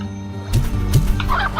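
Hens in the video game Slime Rancher give a few short, close clucks over game background sound.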